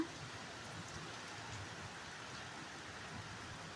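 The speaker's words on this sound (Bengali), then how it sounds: "আমাদের এদিকে তো বৃষ্টি হচ্ছে" Soft, steady rainfall with a light breeze in Durgapur, a constant gentle hiss, fairly quiet and even throughout, with no voices.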